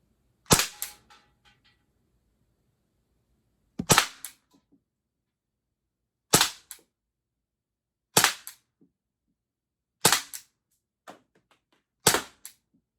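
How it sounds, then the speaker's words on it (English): Six sharp cracks from an Umarex T4E Glock 17 training pistol firing aluminum ammo, spaced roughly two seconds apart, each a loud close snap with a short ringing tail and otherwise silence between. "that was 6 shots of aluminum versus the tin"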